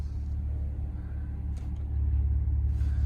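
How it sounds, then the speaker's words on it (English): 2017 Maserati Ghibli SQ4 engine running in non-sport mode: a quiet, steady low rumble with a faint hum and a slight rise in level partway through, no talking. "So listen to the vehicle, non-sport mode."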